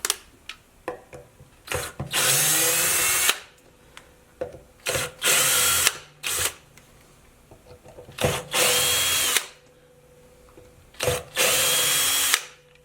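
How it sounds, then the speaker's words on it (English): Power drill loosening the pickup screws on a Fender USA Jazzmaster guitar: four loud, close whirring bursts of about a second each, separated by quieter clicks and handling noises. "We've done this enough times that we can get away with using a power drill"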